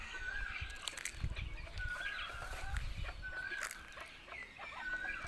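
Bantam chickens at a Thai temple cluck near and far, with short repeated bird calls rising over a low rustling background and light scattered clucks throughout.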